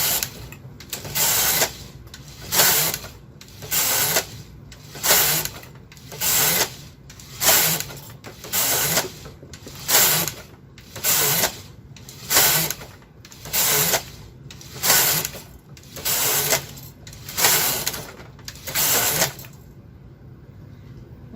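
Silver Reed SK560 knitting machine carriage swept back and forth across rows of sock knitting, a steady series of about fifteen rattling, clacking passes at even rhythm, close and clear, ending in quiet.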